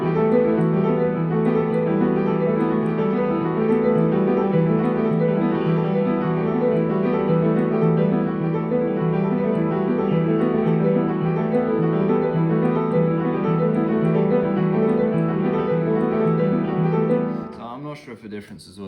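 Solo piano played with the left hand emphasised over the right, a dense, sustained, even flow of notes at moderate loudness that fades out near the end.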